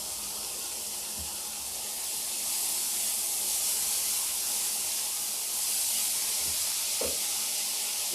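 Butter sizzling steadily in a pan while croutons are made, an even, continuous frying hiss with a few soft knocks and clinks near the end, and no talking.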